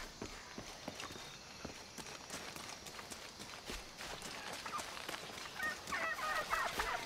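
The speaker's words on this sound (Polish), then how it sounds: "Indyk." A turkey gobbles somewhere in the wild terrain of the video game Shadow of the Tomb Raider, the calls faint and far off beneath a steady run of clopping footstep-like taps and ambient jungle noise.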